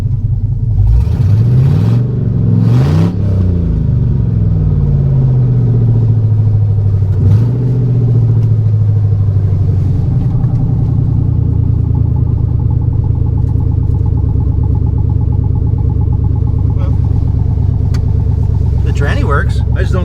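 A 1974 Chevy pickup, high-centered with a suspect transmission and four-wheel drive, revs loudly through several rising and falling surges, then settles into a steady, heavy engine drone.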